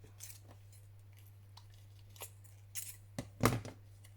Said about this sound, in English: Where's my little scissors?